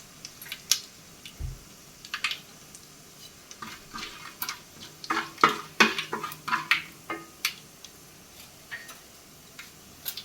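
Whole coriander seeds and cumin toasting in a pan, giving sparse, faint crackles and light pops that come in irregular bursts, with a few louder ticks in the middle, heard alone without talk.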